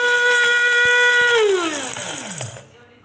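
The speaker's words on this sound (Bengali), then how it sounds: "আর এখানে 5 ফোড়ন, শুকনো মরিচ এখন ব্লেন্ডার করে নিব।" An electric blender grinds five-spice seeds and dried chilies, its steady high motor whine sliding down in pitch as it winds down and cuts off near the end.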